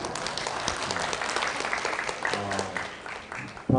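Audience applause at a tea culture expo lecture, a broad steady wash of clapping running the whole stretch with a few voices mixed in, ending in a louder burst.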